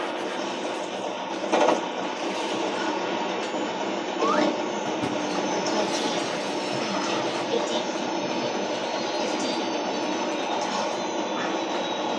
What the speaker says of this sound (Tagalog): Medyo magiging malikot daw itong tren.